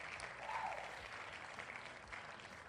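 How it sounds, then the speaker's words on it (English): Faint, distant applause from a crowd in the football video game FC 26, a soft continuous patter of clapping at low volume. "I've just realised I can hear clapping up there."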